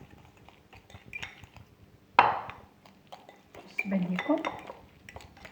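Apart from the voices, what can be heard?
stirring vinaigrette sauce with a spoon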